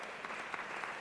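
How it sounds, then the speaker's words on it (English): A town hall audience applauds a city councilmember, a brief, faint patter of many hands clapping heard from a distance. "Please give her a big round of applause."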